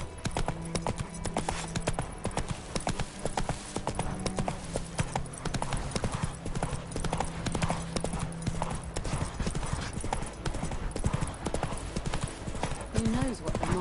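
Roach, the horse in The Witcher video game, gallops with dense, continuous hoofbeats, loud and close, while voices talk over the running.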